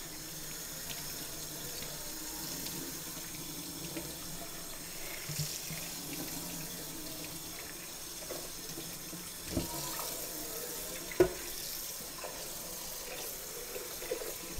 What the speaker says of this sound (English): We're gonna do a little rinsing here.